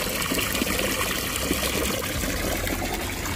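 Water pours steadily into a turtle pond with rock-like walls, a constant close rushing trickle and gush that runs unbroken for a few seconds with no voices.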